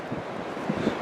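Steady outdoor wind roars and buffets against the microphone, a broad rushing noise with a few low gusty thumps.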